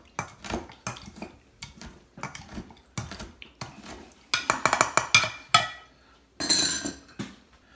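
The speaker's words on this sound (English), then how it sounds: "when you get into the muddling, make enough pressure to break the cucumber and make a twist, releasing all the flavors of the mint" A muddler crushes cucumber and mint in a glass, giving a series of close, sharp knocks and clinks in irregular bursts, with grinding scrapes between them.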